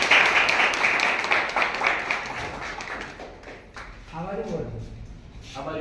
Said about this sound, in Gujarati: તાળીઓના ગણગણાટથી વધાવો.